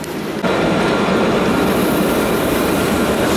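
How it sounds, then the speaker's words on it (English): An old electric trolley train rolls on rails near City Hall in Israel, a loud, close, steady rumble with metallic rail clatter throughout and no talking. "just an old electric trolley."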